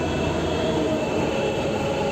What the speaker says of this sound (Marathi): ही बघा, ही मेट्रो आलेली आहे